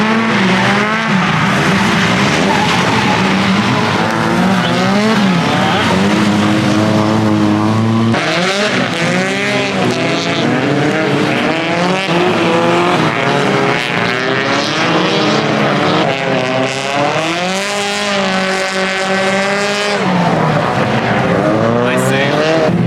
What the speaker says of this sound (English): So I'm guessing there's gonna be a lot of cool cars drifting today.